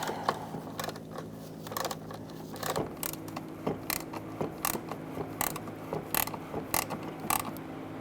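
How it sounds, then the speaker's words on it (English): Bolt being turned by hand while tightening a fog light on a 2014-2018 Subaru Forester, giving a series of close, quiet mechanical clicks and ratcheting ticks at an uneven rhythm over a faint steady hum. "I'm putting my finger here to make sure that the clip is not spinning as I'm turning the bolt."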